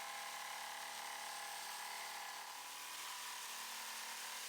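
A jigsaw roughly cuts the outline of a wooden template, giving a steady, buzzing saw whine with a constant high rasp, close and uninterrupted, with no talking.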